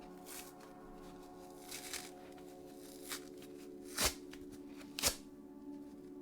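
Scour pads are torn off kitchen sponges in a quiet room, with soft crinkly rips and two sharper tearing bursts near the end, close and alone.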